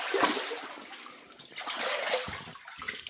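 Cold, shallow cave stream water rushing and splashing steadily around someone wading through it beneath a skylight, a broad continuous wash that swells and dips without any talk.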